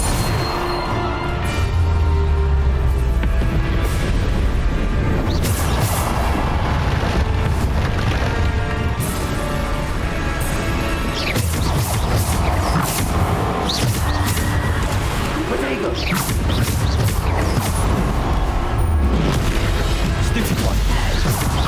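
Spell impacts from Hogwarts Legacy on the Switch land in a dense, continuous string of booming blasts and crashes, loud and close throughout, with a voice calling out spell names over the combat.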